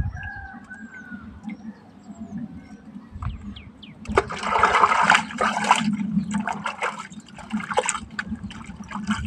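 About 2 kg of molasses is stirred into water already mixed with rice polish for a tiger-shrimp feed juice, giving bursts of sloshing, splashing liquid after a quiet start, with chickens clucking and birds chirping nearby throughout.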